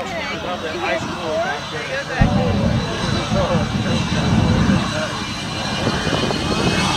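A jet car's engine runs and warms up, a loud, steady roar with a deep low rumble that swells partway through, while people talk over it.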